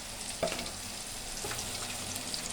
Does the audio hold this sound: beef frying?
yes